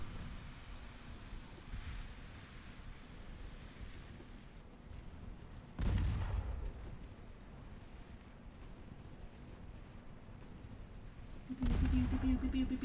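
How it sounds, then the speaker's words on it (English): Naval guns firing in Ultimate Admiral Dreadnoughts: two heavy booms about six seconds apart, each with a rolling rumble, over a low, constant background hum. "1-inch guns, do your thing."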